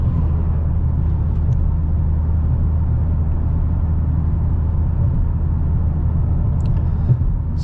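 A Peterbilt truck rushes past at speed, a constant heavy low-frequency road rumble dominating, with a faint brief click near the end.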